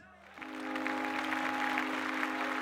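Wedding guests clap for the newlyweds' first dance, a steady wash of applause rising after a brief pause, with a sustained music tone running beneath it.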